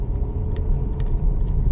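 Cars and motorcycles on a bypass road produce a brief, close, low rumble. A few faint higher swishes pass by within a couple of seconds, with no voices.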